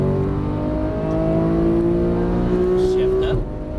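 A Porsche 991 GT3 engine on a race track pulls hard out of a corner, its loud, close drone climbing steadily in pitch for over three seconds before dropping off abruptly at the end.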